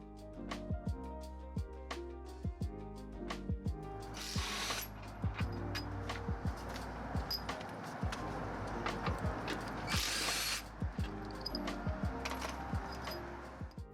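A hand ratchet clicks in rapid, evenly spaced bursts while backing out 19mm bumper bolts, its sharp pawl ticks close and dry, with a couple of short hissing pauses between runs of clicking.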